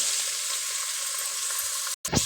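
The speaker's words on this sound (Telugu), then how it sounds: "ఆయిల్ హీట్ అయిన తర్వాత ఆనియన్ పచ్చిమిర్చి ముక్కలు" Chopped onion and green chili hit hot oil in a pressure cooker with a loud, steady sizzle, then a sudden brief dropout and a burst of fresh crackling near the end.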